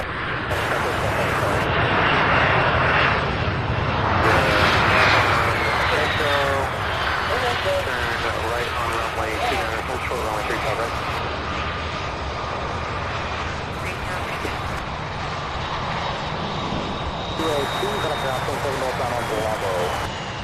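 Aircraft landing at Louisville SDF airport, a steady loud engine roar that rises and swells around the middle and keeps droning throughout, with people talking over it.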